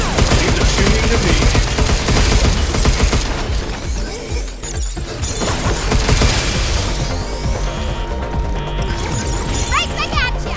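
Gunfire from the video game Pragmata, dense and continuous bursts under a loud music-and-effects mix, with brief shattering crashes and speech mixed in.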